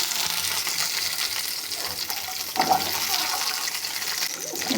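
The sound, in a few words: shallots sautéing in coconut oil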